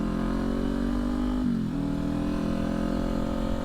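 A 2023 Kawasaki Ninja 400 engine holds a steady loud drone, dips briefly as the revs shift, then climbs back to a sustained tone, close and alone.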